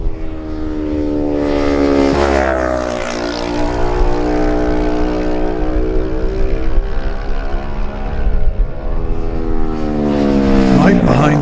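A Kawasaki lightweight racing motorcycle at the Manx Grand Prix roars past at speed, its loud, high-revving engine note rising and sweeping through with a Doppler shift, while a voice talks over it.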